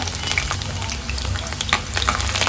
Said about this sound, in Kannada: ಗಾರ್ಲಿಕ್ನ ಕಟ್ ಮಾಡಿ ಇಟ್ಕೊಂಡಿದ್ದೀನಿ. ಅದನ್ನು ಫ್ರೈ ಮಾಡ್ಕೊಳ್ಳೋಣ